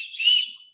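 A survival spork's built-in whistle gives one short, shrill blast that swells and then fades away, heard up close on its own.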